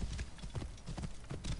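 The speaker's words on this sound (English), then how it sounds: "I love my unicorn horse" A horse's hooves clip-clop in a steady rhythm in the Assassin's Creed Origins video game, loud and close, with the game's ambient sound underneath.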